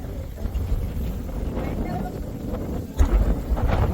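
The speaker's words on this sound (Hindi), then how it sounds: "ठंडी ठंडी हवा चल रही है।" Cold wind gusts during a mountain trek on Kalsubai peak in Maharashtra, rumbling buffets against the microphone with a stronger gust near the end, under people talking.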